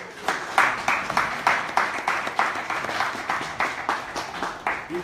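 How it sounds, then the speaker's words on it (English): Rhythmic group clapping at a ceremony, steady and evenly paced, mid-distance and moderately loud, continuing throughout without voices over it. "You can keep the applause going"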